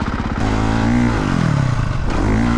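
A motocross dirt bike engine revs hard and close, its pitch climbing and falling through a steady, loud drone with a brief throttle-off dip near the start.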